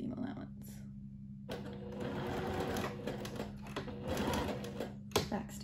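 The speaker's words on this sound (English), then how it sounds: "I'm going to sew this with a 1/2 inch seam allowance." A sewing machine runs a half-inch seam on a cotton sundress, its fast, steady stitching chatter close and loud, pausing briefly then resuming in continuous bursts.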